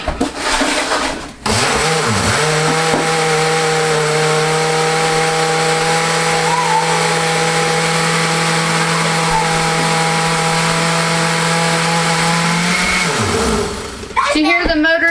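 A blender motor runs loud and steady while blending homemade laundry detergent, a strong whirring drone that starts after a brief rattle, holds for about twelve seconds, then winds down and stops.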